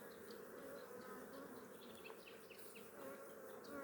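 A dense, steady buzz of many honey bees close by at a tiered hive, continuous and unbroken, with no talking.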